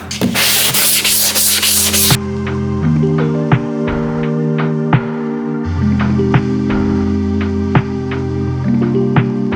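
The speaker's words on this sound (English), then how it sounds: "And now we sand it down." Hand sanding of a 3D printed Porsche GT3 body panel, a loud rough rasping rub at first, then steady back-and-forth strokes with a humming tone underneath and regular scraping ticks.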